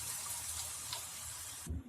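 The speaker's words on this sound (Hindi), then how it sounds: "अब हम इसमें पानी डाल देते हैं।" Water is poured from a glass into a pan of dhaba-style urad dal (mash ki daal) cooking with spices, giving a faint, steady hissing splash that ends with a soft low clunk.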